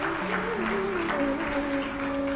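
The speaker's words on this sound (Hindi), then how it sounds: "आपने ताली बजाई" An audience at a devotional storytelling session claps steadily but softly for a couple of seconds, mixed with a sung melody and background music.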